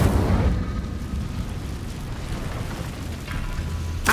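A fire spell cast in Hogwarts Legacy gives a single roaring burst of flame that fades into a steady rumbling wash, with another flare rising near the end.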